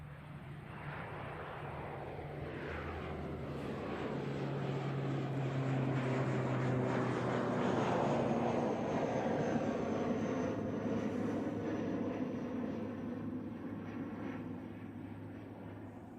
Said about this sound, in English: Just in case you haven't seen an ATR today, here's another one.